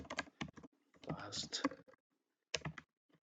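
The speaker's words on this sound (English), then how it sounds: "So I'm going to type in here" Fingers type on a computer keyboard, giving close, crisp clicks in quick clustered bursts with a brief gap before a final short flurry.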